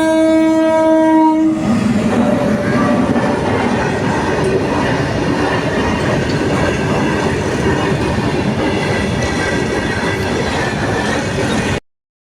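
A train on a railway track near a village temple in the rainy season sounds a loud sustained horn, then roars past close by with dense rushing rumble and wheel clatter until it cuts off abruptly.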